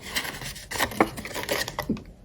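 Scissors snipping through paper or card while making a rounded Christmas gift box, a few quick close cuts with short rustles between them.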